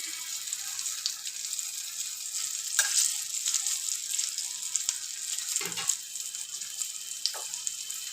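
Slit green chillies frying in oil in a pan make a constant hissing sizzle, with a few sharp pops and a stirring scrape in the middle, heard close up without talk.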